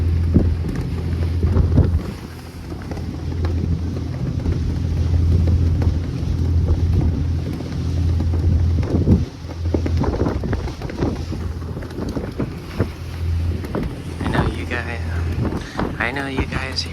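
Constant wind roar and gusting flutter come from a flag flapping aboard a bay cruise boat in San Diego near the Coronado Bridge, layered over a low engine hum. A voice talks throughout.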